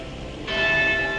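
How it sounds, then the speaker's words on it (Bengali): Church bells ring in Cochem on the Mosel River at seven in the evening, a sudden clear strike that sets in after a moment of street hum and rings on with sustained metallic overtones. "ঘন্টাও পড়ছে চার্চে"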